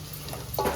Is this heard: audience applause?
no